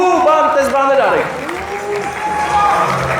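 Applause from a crowd at a celebration, steady clapping held throughout under loud, close talk and music.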